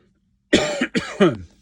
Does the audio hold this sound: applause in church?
no